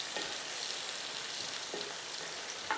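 Onions and capsicum sautéing in a pan for dragon chicken, with a soft continuous sizzle and a few spatula scrapes, fairly quiet and without speech.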